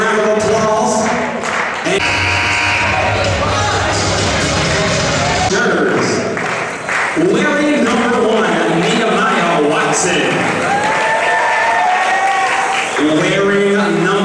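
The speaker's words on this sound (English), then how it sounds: "Let's give them a round of applause." A gym crowd at a varsity high school basketball playoff game claps and cheers steadily throughout. An announcer's amplified voice runs over much of the applause.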